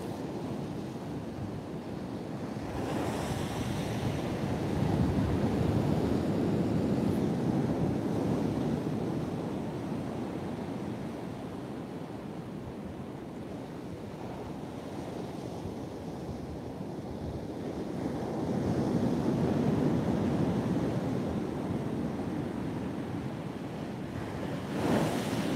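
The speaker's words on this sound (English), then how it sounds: "Wind's a bit of a pain, get around your face and your neck, it's quite cold." Strong onshore wind and breaking surf on Trimingham Beach during 40mph winds, a steady roar of waves swelling and easing in slow surges with buffeting wind noise, no voices.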